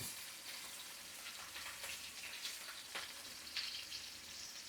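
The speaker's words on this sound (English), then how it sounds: "So it gets real good contact with the pan, so it gets a nice sear." Ribeye steak searing in a hot pan gives a faint, even crackling sizzle with scattered pops, steady throughout without voices.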